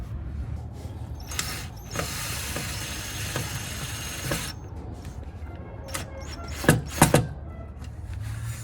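Bolts being screwed in by hand while fitting an EMP rear diffuser under a 2015-2023 Dodge Charger, giving soft mechanical clicks and scrapes, with a few sharper ratchet-like ticks near the end, close and fairly quiet.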